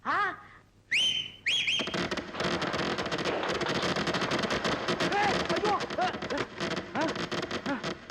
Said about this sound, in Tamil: என்னடா அது விசில் வேட்டு சத்தமா?